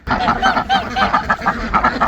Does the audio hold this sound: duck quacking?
yes